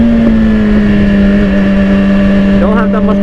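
A BMW S1000RR motorcycle engine holds first gear under acceleration, a loud steady whining drone with a pitch that climbs, then wavers near the end, with wind roar and a voice talking over it.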